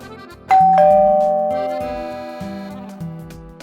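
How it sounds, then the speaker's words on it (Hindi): Indoor doorbell rings a ding-dong chime, then repeats its two-tone pattern several times in close succession, clear and close with notes slowly decaying, no voices. "क्या बार बार डोरबेल बजा रहे हो?"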